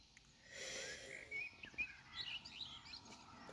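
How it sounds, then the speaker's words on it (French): A small bird sings faintly outdoors in the morning, a few quick high chirps and twittering phrases against a quiet background. "Petit oiseau qui chante."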